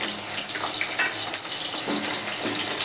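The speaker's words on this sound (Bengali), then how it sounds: "এই তেলের দিয়ে আমি আলুটাকে ভেজে নেবো ভালো করে" Potato pieces sizzle and crackle in hot oil in a pan, making a steady, close frying hiss with soft stirring noises and no talk.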